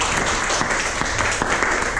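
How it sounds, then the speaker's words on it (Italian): An audience applauds a speaker at an Italian university event, dense continuous clapping from many people, close and loud, filling the whole moment without speech. "grazie Ruggero, un applauso a te"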